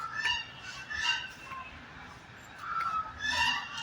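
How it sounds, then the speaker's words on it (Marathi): Ducks at a lake give a few faint, scattered honking calls in short bursts at a distance against quiet outdoor background. "बघा बघा बदक आली इथं बदकाची फॅमिली बघा"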